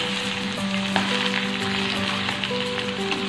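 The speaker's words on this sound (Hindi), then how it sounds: "अब इसमें मैं डालूंगी चिकन।" Cut chicken leg pieces fry with lightly browned onions in an iron karahi, a steady loud sizzle with scattered pops and spatters throughout.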